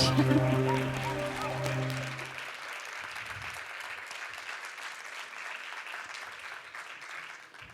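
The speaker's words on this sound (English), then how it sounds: "applause to welcome Carlos to the stage" At a pitch event, a sustained tonal sound plays for the first couple of seconds, then an audience breaks into steady, continuous applause as a speaker is welcomed to the stage, moderately loud and even to the end.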